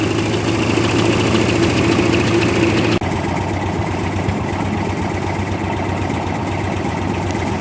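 A 1958 Oliver 550 diesel tractor engine, worn and burning oil, idles steadily up close, a continuous low rumbling chug with a rhythmic knock, briefly shifting tone partway through.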